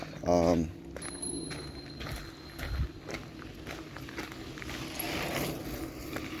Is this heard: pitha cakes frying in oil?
no